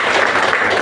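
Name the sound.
loud applause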